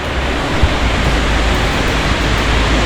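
Steady, dense roar of a waterfall near Turtuk, India, a continuous broadband wash of rushing water with no breaks, close and loud.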